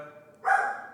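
A dog barks once, sharp and fairly close, after a brief lull of low room noise; no one talks.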